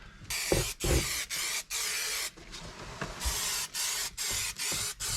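Carpet glue sprayed onto a speaker box for a GMC Sonoma rebuild, a close hissing spray in repeated bursts about half a second to a second long, separated by brief gaps, with no talking.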